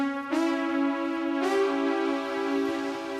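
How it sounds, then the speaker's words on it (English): A sustained diminished triad rings out on a bright keyboard-like synth tone, struck twice with a steady held sound between, clear and close with no talking. "The diminished chord sounds like this."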